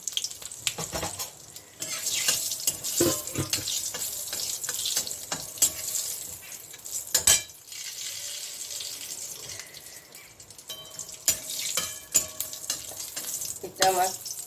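Whole cinnamon, cardamom, a large black cardamom and cloves sizzle in hot oil, a close crackling hiss that swells and fades in bursts with scattered sharp pops.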